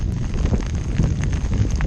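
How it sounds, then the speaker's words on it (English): Strong wind buffets the microphone during a stormy outing in a Hobie Pro Angler 14 kayak, a steady broadband roar that fills the scene without pause. "the wind is pushing me so freaking much"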